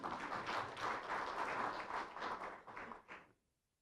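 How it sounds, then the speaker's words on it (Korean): An audience at a Korean policy debate forum applauds to welcome a speaker, a faint, steady wash of clapping that thins and fades to silence. "모두 박수로 맞아주시기 바랍니다"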